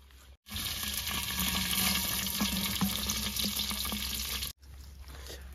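Onions dropped into hot oil in cooking pots, a loud, dense sizzle that bursts in suddenly, roars steadily for about four seconds, then cuts off sharply before a quieter hiss resumes, with no voices.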